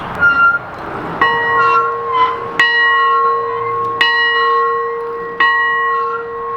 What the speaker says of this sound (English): Yep, the bell still works.